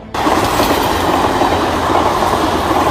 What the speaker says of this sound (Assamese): জক জক শব্দ কৰি আগবাঢ়িছে ট্ৰেইনখন।